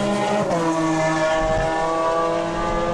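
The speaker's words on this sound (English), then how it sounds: "he had a big slide and he loops it around" A sports racing car from the Supercar Challenge at Assen slides and loops around on a wet track, its engine note wavering and shifting continuously at close range with a loud, steady roar and no voices.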